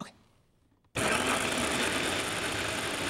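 After a quiet moment, a food processor blending hummus suddenly whirs to life with a loud, steady grinding buzz that continues to the end.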